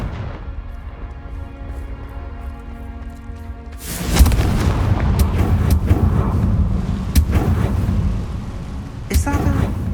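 Confringo fire spell cast in the Hogwarts Legacy game: a loud booming blast breaks in after a few seconds of quiet ambience and leaves a rumbling roar with further crackling bursts, with a voice speaking over it.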